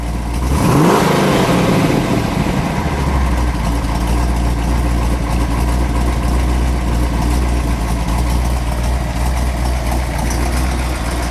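A 1969 Ford Mustang Boss 302 V8 engine rumbles loudly and steadily, with a rising rev near the start before settling into a heavy, throaty idle.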